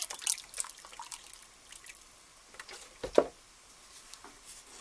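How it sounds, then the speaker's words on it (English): A spoon stirs pepper soup with beef broth in a pot, giving faint liquid swishes and a single sharper clink near the middle. The sounds are quiet and sparse, with no talking. "I'm going to stir this on a regular basis"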